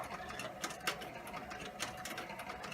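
Sewing machine stitching a belt, a steady mechanical whir with a fast regular needle rhythm, close and even for a few seconds with faint clicks on top.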